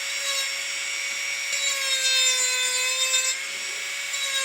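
A Marathon micro motor rotary tool spinning a burr into wood, a steady high-pitched whine with grinding texture that holds evenly for a few seconds, no talk.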